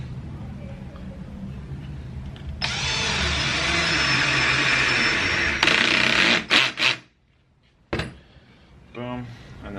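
A power drill whines as it bores holes and then drives screws into wood for curtain rod holders, a long steady run followed by short bursts and stops, loud and close.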